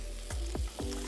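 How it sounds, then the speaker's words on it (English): Beetroot, onions and carrots frying for a venison chutney base, a steady close sizzle in the pan with a few quick stirring scrapes. "the onions and the carrots and letting them sizzle away"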